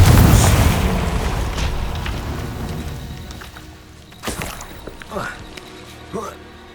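A Confringo fire spell in the Hogwarts Legacy video game bursts with a loud, deep boom that rumbles and slowly fades, followed by a few fainter thuds and character voices speaking.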